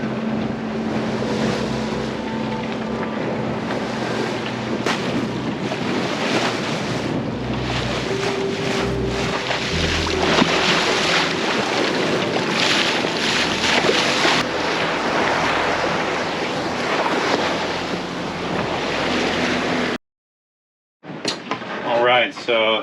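Aboard a sailboat on fairly calm seas with small two-to-three-foot waves, wind buffets the microphone and water rushes steadily past the hull; people talk intermittently over the noise before a brief dropout near the end.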